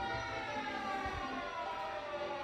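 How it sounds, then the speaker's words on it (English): Wailing sirens sound in the background of a city after a major earthquake, a steady, sustained tone heard from a distance and at moderate level, with no talk over it. "You hear the sirens in the background?"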